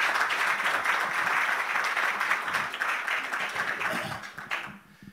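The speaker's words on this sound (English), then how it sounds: "giving them a round of applause and congratulating them" Steady audience applause at a university Three Minute Thesis final round, a sustained wash of clapping that tapers off near the end.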